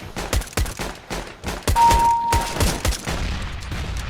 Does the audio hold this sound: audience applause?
no